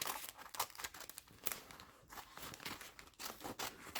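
Scissors snip and crinkle through paper while trimming ornament tags, quiet and close, with irregular bursts of cutting and rustling.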